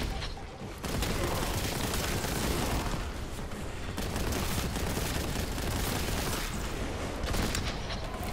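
Heavy gunfire in Warhammer 40,000: Boltgun rattles almost continuously, a dense barrage of shots with brief lulls, loud and close throughout.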